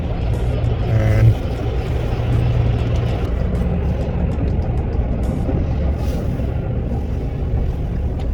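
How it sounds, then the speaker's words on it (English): An automated Petro Canada car wash runs around a vehicle parked inside it, with a continuous loud mechanical whir, spray and motor drone. A brief beep sounds early on. "right now we are going into an auto car wash"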